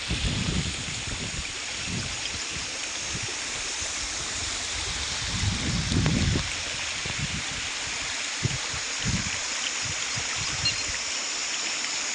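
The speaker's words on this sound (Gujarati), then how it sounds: "પાણી વહેતું જ રહે." Water flowing over a small village check dam, a steady close rushing and splashing that runs throughout, with occasional low gusts of wind buffeting the microphone and no voices.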